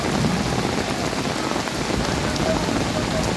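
Steady, loud monsoon rain pours continuously onto an open field during a football match, a dense unbroken hiss with no voices.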